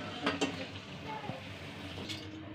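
Street-style khasta kachori, half-cooked, being turned over in hot oil in a kadai, a steady low sizzle with a few soft scrapes and clinks of the utensil, with no talking.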